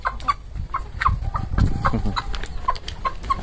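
Chickens clucking after laying eggs, a series of short repeated clucks from several birds close by, with low rustling and handling noise underneath.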